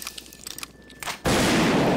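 A double-barrel shotgun blast goes off in Garry's Mod as a sudden loud burst that cuts in after a second of quieter clicks and movement, then holds as a broad, sustained roar.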